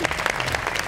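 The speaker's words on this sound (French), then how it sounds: "On l'applaudit, mesdames et messieurs." Audience applause at a French-language TV game show as a guest is introduced, a dense steady patter of many hands clapping close and loud for a brief moment.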